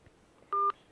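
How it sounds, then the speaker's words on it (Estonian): A single short touch-tone beep sounds as one key is pressed while a phone number is dialed, clear and close against a quiet background. "Olgu, helistame siis Helisadam, haldusjuht."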